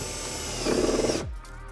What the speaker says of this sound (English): Still use the tech screws, but just simply screw into the ply line kit.